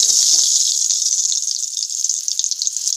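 A continuous bright sizzle of pointed gourd, coated in salt and turmeric, frying in hot oil, loud and close, with small crackles and pops scattered through it.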